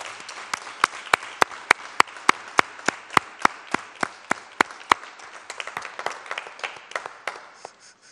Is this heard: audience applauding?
yes